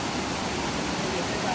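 Rushing water pours like a small waterfall in a continuous, dense hiss that fills the whole clip, loud and close, with no speech over it.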